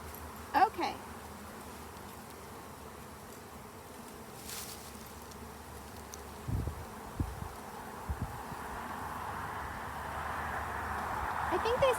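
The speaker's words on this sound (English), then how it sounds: "this is a perfect day to be a bee. The buzz, buzz, buzz, buzz, buzz, buzz, buzz, buzz." Honey bees buzz around an open hive outdoors on a warm sunny day, a steady faint hum with a few louder passes close by.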